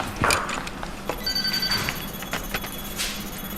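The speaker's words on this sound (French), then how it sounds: "C'est mon téléphone." A telephone rings in a quiet room, its electronic trill sounding in a couple of short bursts at moderate loudness, with faint background noise and no talking.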